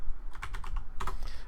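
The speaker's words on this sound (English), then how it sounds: "I'm typing in the word memes into Google." Fingers type on a computer keyboard with a quick run of close clicking keystrokes, a short pause, then another burst, fairly loud over a low background hum.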